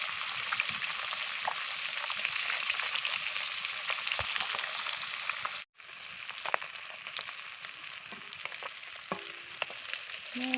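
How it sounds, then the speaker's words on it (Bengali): Fish pieces fry in hot oil for a village home curry, making a constant close crackling sizzle with light stirring clicks and a brief dropout midway. "এই যে মাছগুলো ভাজা হচ্ছে।"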